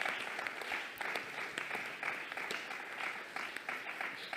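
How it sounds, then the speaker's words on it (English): An audience at a sustainable building panel claps for the panel: steady, moderately dense applause at a modest level, continuing throughout without much swell. "round of applause for our panel?"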